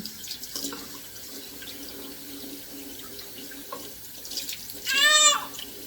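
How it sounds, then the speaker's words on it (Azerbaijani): Water runs from a kitchen tap and is poured over grapes in a sink. A soft trickle builds into a louder gush of splashing water near the end, and clinking and small handling noises come before it. "üzerine su da vururam."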